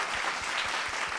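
A studio audience at a Tamil stage event or talk show claps steadily, a dense continuous wash of hands with a faint low rhythmic thump underneath, no voices.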